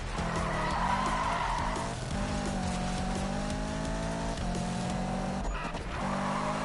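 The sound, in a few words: vehicle drifting with tire skid in Destiny video game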